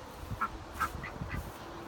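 A duck quacking in a backyard shared with chickens, several short nasal quacks spaced over a couple of seconds, fairly close and moderately loud against a quiet background.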